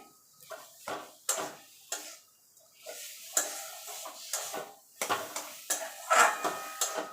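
Palm milk mixture with paneer being stirred continuously in a pan over low to medium gas. Repeated sharp clinks and scrapes of the utensil against the pan come in an irregular rhythm, close and fairly quiet, with no talking.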